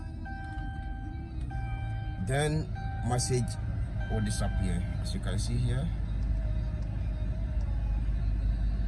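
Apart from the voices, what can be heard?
Dodge Charger engine started and running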